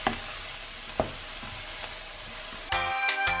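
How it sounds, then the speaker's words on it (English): Chestnut mushrooms frying in a pan, with a steady close sizzle and occasional stirring clicks, then a louder burst of sizzling near the end. "Here we have all the chestnut mushrooms, which we're going to throw into the pan right now"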